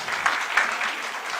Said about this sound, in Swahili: Tuwapigie makofi kabisa.